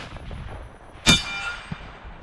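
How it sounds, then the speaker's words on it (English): A .204 Ruger rifle fires a single sharp shot at a steel target 400 yards downrange, a loud crack with a ringing metallic tail, then a faint distant ping from the steel a moment later. "Ping, first shot."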